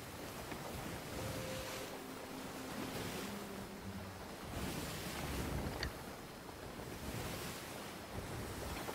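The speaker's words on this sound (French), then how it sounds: "c'est quand même sacrément la tempête là" Stormy sea waves crash and surge under steady gusting wind in the pirate sailing game Sea of Thieves, a continuous roaring wash with swelling peaks and no voices.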